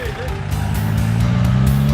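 A rally car's engine droning close by during an off-road event, rising slightly in level with a low rumble and rattling, while a voice talks over it.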